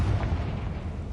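The Confringo explosive spell goes off in the video game Hogwarts Legacy as a single loud, close, rumbling blast that fills the whole moment.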